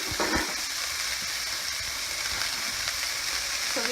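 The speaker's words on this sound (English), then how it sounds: "you can see that our water is boiling here" Water boiling in a pot on the stove for ramen noodles, a steady close bubbling hiss that runs throughout with a few faint clinks.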